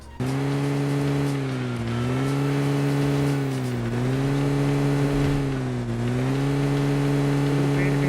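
A three-wheeled vehicle drives in PUBG Mobile, its engine whining steadily and rising and falling in pitch as it speeds along, with occasional tire squeal over a continuous, loud motor drone.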